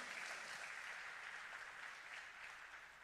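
A church congregation breaks into steady applause during a service, sustained clapping that tapers slightly toward the end.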